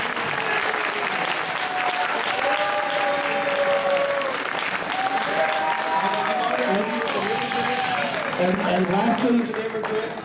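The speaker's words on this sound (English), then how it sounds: "Let's give them a round of applause." Sustained audience applause fills a room at an El Monte community immigration forum, a thick, continuous clatter of many hands while a voice speaks over it.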